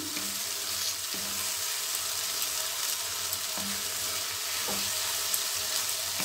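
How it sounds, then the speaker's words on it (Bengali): Spice paste fries in hot oil with bay leaves and salt for a broccoli curry, a steady close sizzle with a few stirring scrapes of the spoon, no talking. "এবার মশলাটা আমি কষে নিই।"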